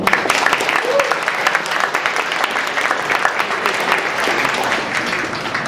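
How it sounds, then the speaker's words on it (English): A room full of people claps steadily in sustained applause, dense and even throughout, with a voice faintly audible underneath. "One more round of applause."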